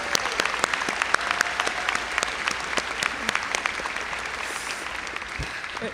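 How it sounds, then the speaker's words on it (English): Steady applause from a sizable crowd at a high school graduation ceremony, dense and sustained for several seconds with scattered sharper claps, no talking over it. "just have a moment to just clap for our seniors"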